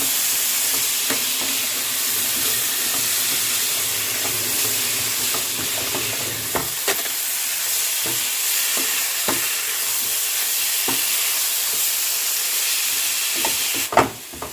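Potato and pumpkin pieces fry with spices in a pan, giving a steady, close sizzle broken by scattered clicks and scrapes from stirring.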